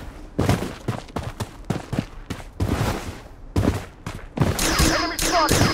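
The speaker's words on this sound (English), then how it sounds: "Missile bombardment on its way." A missile bombardment strikes in the shooter game Blood Strike, a run of heavy blasts and bursts of gunfire hitting one after another, loud and close, with denser crackling impacts near the end.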